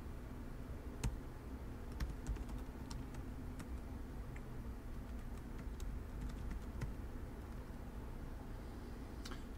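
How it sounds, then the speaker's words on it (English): Quick keyboard typing while logging into a computer, heard as scattered light clicks and taps over a steady low room hum, fairly faint and close, with no talking. "Hopefully I've typed in the password right."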